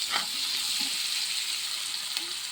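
Onion and green chili frying in oil in a pan, a continuous close hiss and crackle with a few faint stirring scrapes and no voices.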